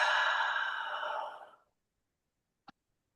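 A single long, deep exhale during a slow guided breathing exercise, close and soft, fading out after about a second and a half into near silence, with one tiny click near the end.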